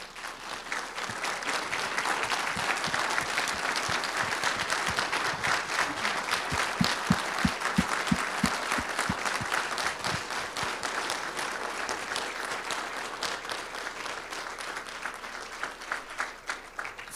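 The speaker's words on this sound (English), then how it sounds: "Please stand and give them a round of applause." An audience at a school ceremony applauds students, a sustained wash of many hands clapping in a large room, swelling slightly midway and tapering toward the end, with faint crowd murmur underneath.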